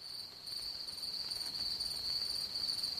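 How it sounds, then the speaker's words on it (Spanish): An African cricket chirps steadily in a high, thin pulsing trill, repeated in regular bursts against a quiet background, fairly faint and alone with no voices. "Es que es un grillo de África."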